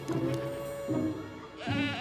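Goats kept in cougar country bleat at close range in three drawn-out, wavering cries with short gaps between them, alone and fairly loud.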